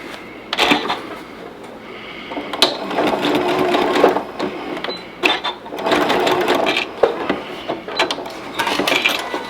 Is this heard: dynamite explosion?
no